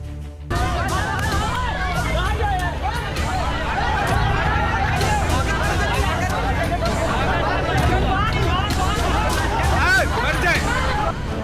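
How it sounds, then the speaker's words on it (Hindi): A large crowd of hundreds, many holding sticks, in an angry uproar: dense overlapping voices and shouting, loud and sustained throughout, with a chaotic babble close by. "भीड़ सैकड़ों में, हर हाथ में लाठी और डंडे, हर चेहरे पर गुस्से का उबाल, शोर शराबा इतना कि कानों के पर्दे फट जाएं"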